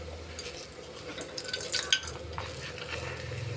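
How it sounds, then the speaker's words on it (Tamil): Papad fries in hot oil in a pan, giving a soft bubbling sizzle with scattered crackles and drip-like pops, fairly quiet and with no voices. "அப்பளத்தை வந்து நம்ம பொரித்து எடுத்துக்கலாம்."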